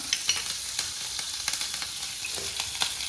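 Fresh-cut curry leaves hit hot oil and crackle in a loud, continuous sizzle, with sharp pops and spatters scattered throughout. There is no talking.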